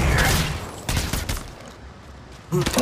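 Bursts of gunfire in the video game Apex Legends during a ranked match: a rapid volley at the start, a second burst around the middle and a final short burst, loud and close with no talk.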